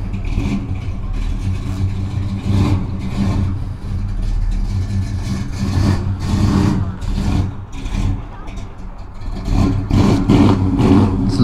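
A car with a loping, cammed engine revs and idles nearby while reversing out of a parking spot, a steady rumbling drone with revving swells, reversing beeps and some talk mixed in.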